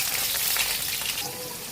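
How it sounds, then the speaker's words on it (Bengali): Potatoes fry in hot oil in a wok, a steady close sizzling hiss running throughout with a slight easing toward the end. "আলুটা ভেজে নেব"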